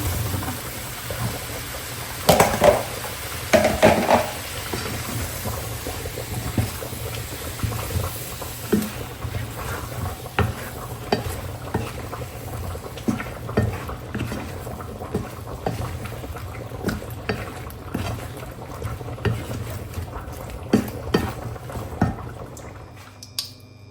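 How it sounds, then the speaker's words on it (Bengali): Shrimp, potatoes and vegetables fry in a pan, a steady close sizzle with a low bubbling bed and repeated sharp taps and scrapes of stirring throughout. "চিংড়ি মাছটা কিন্তু সুন্দর মতো কষা যাচ্ছে"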